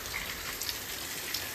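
Steady rain pours onto a farm field, a dense, even hiss of drops with a few brighter patters on nearby surfaces, close and constant throughout with no voices.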